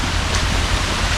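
Steady, loud rain falls on a gravel mountain driveway, a dense continuous hiss with no other sounds.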